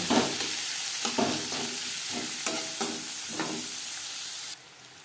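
Chopped onions with turmeric sizzle in hot oil in a pan, with several distinct spatula stirs scraping through a continuous frying hiss before it drops off near the end.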